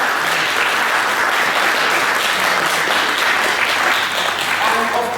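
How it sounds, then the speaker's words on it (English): Sustained audience applause at a community celebration marking an organisation's second anniversary in Basildon, dense steady clapping filling the room for the full stretch without pause. "Can you give her a big round of applause?"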